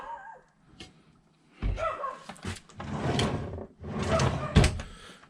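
Drawers in a 2020 Host Everest triple-slide truck camper slide open and shut, three rumbling bursts of wooden sliding each ending in a knock, close and fairly quiet.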